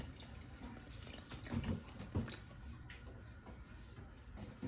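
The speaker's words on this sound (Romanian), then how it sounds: "Iar acum eu am să stropesc cu un pahar de apă rece." Cold water from a glass splashes into a pot of dumpling soup on the stove, a steady, fairly faint pouring and trickling that runs for several seconds with small surges, with no voices.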